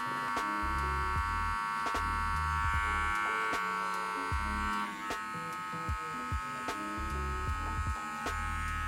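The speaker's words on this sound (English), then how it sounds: "Trimmer, not so much pressure, and then flare out like if I'm already Yeah. fading" Electric hair trimmer buzzing steadily and close up while cutting a mid fade, a continuous high-pitched hum with small shifts in tone as the blades press against the hair.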